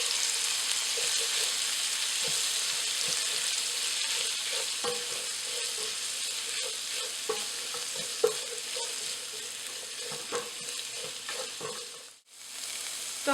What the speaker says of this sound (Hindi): तो हमें इस ओनियन को अच्छी तरह से गोल्डन ब्राउन होने तक भूनना है।